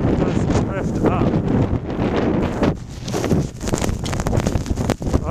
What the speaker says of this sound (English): Oh yeah, here's some wind now.